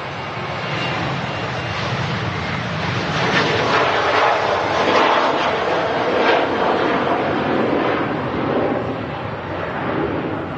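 Jet airliner on its takeoff roll at Manchester Airport, a broad, steady roar heard from a distance that swells gradually and then holds, with no talk over it.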